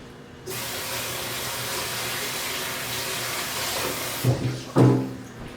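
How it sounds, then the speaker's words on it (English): Tap water runs steadily into a kitchen sink while hands are washed, a continuous broadband splash that stops near the end, followed by a couple of brief clattering knocks. "And let me wash my hands."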